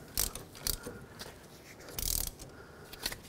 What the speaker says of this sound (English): start in your banjo bolt. Snug it up. Make sure it's nice and tight.